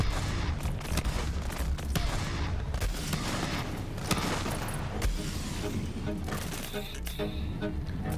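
Dense, continuous gunfire from the Borderlands video game, loud and sustained with rapid repeated bursts, mixed with game effects and occasional talk over it.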